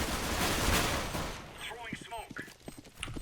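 Rapid gunfire bursts in the game CS:GO, loud and dense at first, then fading into scattered shots with quieter clicks and footsteps as the fight ends.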